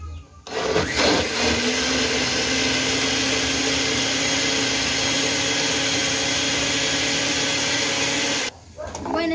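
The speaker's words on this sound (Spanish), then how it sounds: "Acá están las 2 libras de tomate. Vamos a licuarlo." A blender purees two pounds of tomatoes for salsa, starting abruptly and holding a loud, steady motor whir for about eight seconds before cutting off, with no talk.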